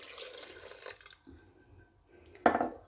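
A glass of water is poured into a blender jar for a mint and lemon drink, giving a short splashing burst after some quiet handling sounds.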